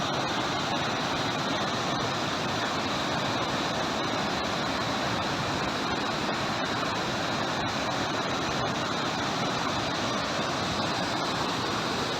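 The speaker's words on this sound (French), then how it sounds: "belle cascade." Waterfall on the GR11 trail of cascades leading to Bachimaña lake in the Spanish Pyrenees, a loud, constant broadband rush of falling water with no break across the whole stretch.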